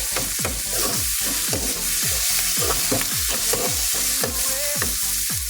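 Crushed tomatoes cook in a pan for squid adobo with string beans, giving a loud continuous sizzle and fast, rhythmic scraping stirs against the pan, close up with no talk.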